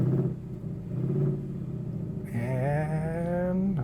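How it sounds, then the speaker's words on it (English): A Kia car on smart cruise control slows to a full stop, a low engine and road rumble easing down, followed by a rising tonal whir as it settles, fairly quiet and close with no talking. "the vehicle is bringing me right down to a full stop"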